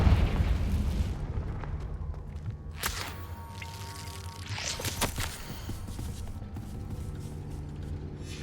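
The Confringo fire spell goes off in the video game Hogwarts Legacy with sharp, loud blasts and whip-like cracks over a low rumbling game backdrop, one burst near the start and a stronger one mid-clip.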